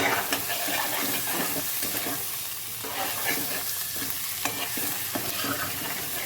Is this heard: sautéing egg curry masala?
yes